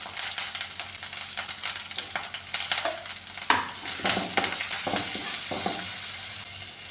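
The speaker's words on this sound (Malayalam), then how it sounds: "ഈ പച്ചമുളക് ഇട്ട് കൊടുക്കുകയാണ്. കറിവേപ്പില ചെറിയുള്ളിയും ഇട്ട് കൊടുക്കാം." Green chilies, curry leaves and shallots sizzling in hot oil in a pan for Kerala-style moru curry, steady close frying hiss with repeated stirring scrapes and rustles.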